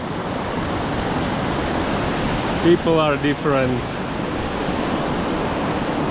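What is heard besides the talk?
mountain stream water flowing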